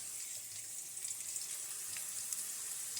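Potatoes frying in a pan give a quiet, steady hiss and crackle, faint and even throughout with no voices.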